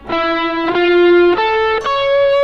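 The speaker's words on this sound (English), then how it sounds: "you start to get that augmented sound" Four strummed electric guitar chords in the C shape ring out in turn, each sustained with an effected, slightly distorted tone that shifts to a tense augmented quality with a sharp five.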